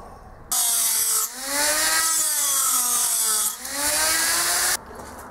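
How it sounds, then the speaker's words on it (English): A Dremel rotary tool grinds through nail heads in a steady high whine, rising and falling in pitch as the cutting load changes, with two brief dips between passes; close and loud, no voices. "With the Dremel."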